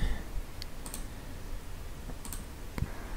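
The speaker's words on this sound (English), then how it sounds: "So let's click on update." A few sharp, faint computer mouse clicks, spaced apart, on a quiet desk while working in a website editor, with no talking.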